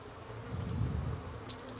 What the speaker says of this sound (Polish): A muchy słyszę.